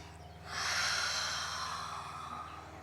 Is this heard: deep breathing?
yes